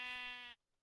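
A single sheep bleat from Minecraft, a clear nasal tone held for about half a second before stopping abruptly into silence.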